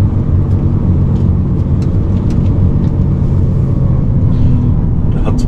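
Heavy excavator engine rumbling steadily at close range, a continuous low droning with faint clanks on top and no pauses.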